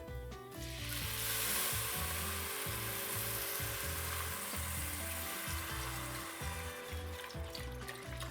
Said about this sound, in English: So now I'm going to add my chicken broth.